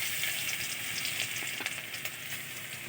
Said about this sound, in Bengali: এবার রসুন দিয়ে দেবো।